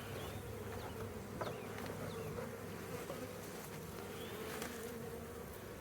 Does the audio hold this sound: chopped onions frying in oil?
no